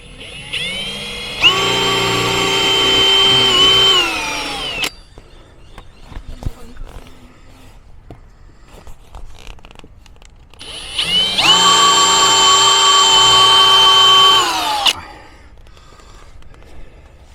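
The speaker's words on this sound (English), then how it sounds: "Don't drill that deep, otherwise you got holes inside" A power drill bores holes for an anti-flap kit on a Dometic roll-out awning, two loud sustained whining bursts of about three seconds each with quieter handling noise between.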